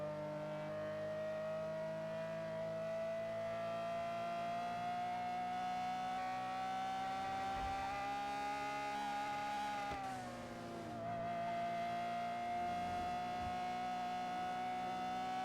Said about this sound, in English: I hate the sound of this car.